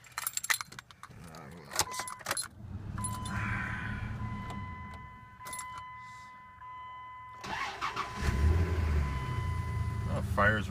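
A 1985 Delta 88 or 1988 Ciera Brougham, an old car, cranks and fires up close by, settling into a steady idle, with keys jangling at the start and brief talk mixed in.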